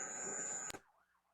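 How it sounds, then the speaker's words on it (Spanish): An ambulance siren, a loud steady wailing tone that cuts off sharply after a brief clatter and leaves a faint, distant wavering siren fading away. "aquí pasó una ambulancia, es un terrible escándalo"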